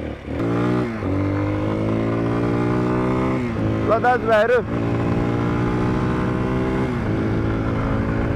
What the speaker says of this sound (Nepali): बाइक चाहिँ हरिफ कुद्छ जस्तो छ